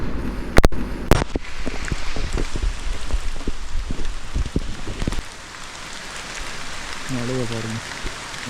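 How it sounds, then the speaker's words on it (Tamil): Heavy monsoon rain during a motorcycle ride in misty hills, a dense steady hiss of rain pelting surfaces with sharp wind buffets early on, then a softer continuous downpour and a brief tonal sound near the end. "மழை ஓவராக வருது."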